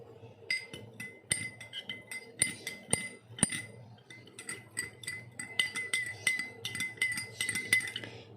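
A spoon stirring sugar into water in a glass, with bright repeated clinks against the glass in irregular bursts, close and fairly quiet.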